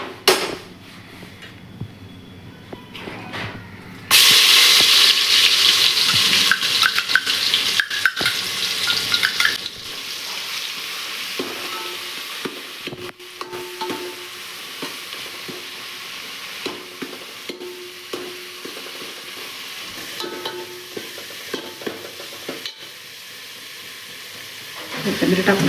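Garlic-coconut paste dropped into hot oil with bay leaf, a loud burst of frying that settles into a quieter sizzle with intermittent spoon scrapes and clinks against the pan.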